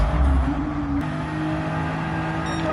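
Nissan GT-R R35 in Gran Turismo 7 accelerates hard, its engine note whirring and rising in a continuous, fairly loud roar.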